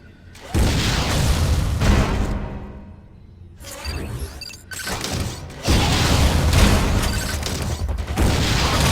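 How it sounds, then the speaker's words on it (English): Video game Metroid: Other M plays loud booming blasts and whooshes as a missile is fired, with dense mechanical game effects over sustained background sound and a brief quieter lull mid-clip. "Why not say hello with a missile?"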